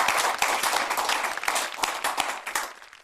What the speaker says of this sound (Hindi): जरा जोरदार तालियों से स्वागत करें।